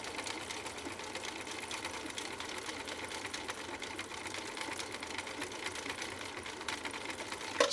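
A 1960s Husqvarna Viking 6440 sewing machine, restored with new parts and many adjustments, runs in a steady fast whirring chatter of needle strokes up close, continuous throughout with no talking.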